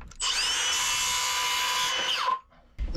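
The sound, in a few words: power drill working on wooden boat interior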